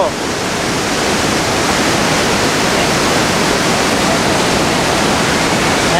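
A loud, constant roar of rushing water from Niagara Falls, USA, dense and unbroken throughout, with no other sounds standing out.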